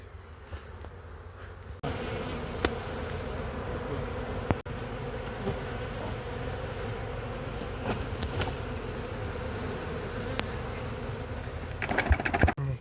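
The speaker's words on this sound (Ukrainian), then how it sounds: "Бачите, коли працюємо, бджоли починають літати." A dense, continuous buzz of many honeybees flying around hives nearby during a honey harvest, with occasional clicks and knocks in the background.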